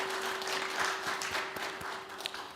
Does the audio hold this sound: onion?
no